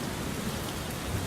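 Rain falling in a 3D Legend of Zelda game, a dense, even hiss of drops on surfaces with a soft low rumble beneath, steady and unaccompanied.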